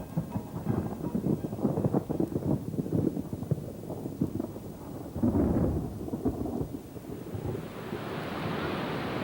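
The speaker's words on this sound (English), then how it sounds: "Cool, listen to that thunder." Deep, rumbling thunder rolls in long waves under a wash of rain and wind, loud and sustained with no talking.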